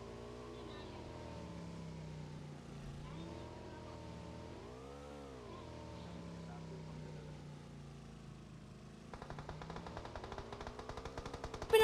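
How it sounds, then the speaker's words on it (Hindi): Automatic gunfire in the video game PUBG Mobile: a rapid, dense rattle of shots erupts near the end over a steady vehicle-like engine drone that rises and falls. "नंबर 2 और नंबर 3 फायरिंग करने लगते हैं"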